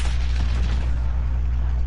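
Rocket launcher fired in the video game Modern Warfare, a loud, deep boom with a rumbling tail that stays heavy and close throughout.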